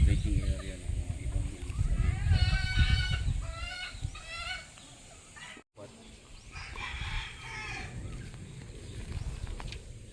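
White Kelso gamefowl roosters on a farm, with several crowing calls in the first half and more after a brief gap, mixed with clucking fowl and people talking.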